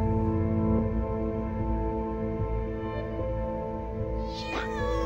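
A cat meows in the video game STAY, a single drawn-out, wavering cry late in the clip, set against a dense, droning game soundtrack with no talking.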